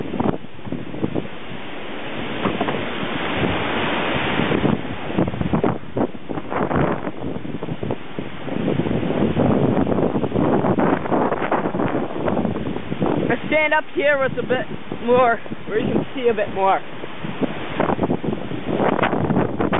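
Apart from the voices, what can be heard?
strong wind gusts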